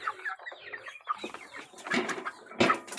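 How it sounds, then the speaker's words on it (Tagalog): Broiler chickens about 35 days old cluck close by in a farm pen, a run of short, uneven calls from several birds with one louder burst at the end, and no talking. "Ngayong araw po ay magtitimbang po tayo ng mga alaga natin na broiler chicken"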